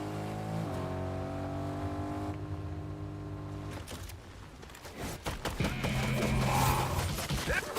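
Car driving in the video game Fortnite, a steady engine drone that shifts pitch, then rougher rumbling and revving with clattering bumps, continuous and fairly loud.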